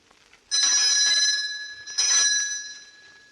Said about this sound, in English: answer the doorbell, will you?